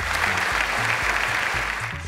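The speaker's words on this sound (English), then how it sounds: "please, a round of applause to the managing director of Promasador Nigeria Limited, Mr. Anders Ernestson" Applause from the audience at the grand finale and prize presentation of a quiz competition, a steady, dense wash of clapping over a low musical beat. It holds at an even level for its whole length and no one speaks.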